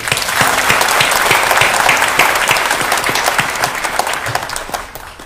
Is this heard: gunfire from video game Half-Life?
no